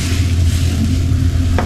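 Pancake batter frying in a pan on a home stove, a steady close sizzle with a continuous crackling hiss and low hum, plus a brief clink near the end.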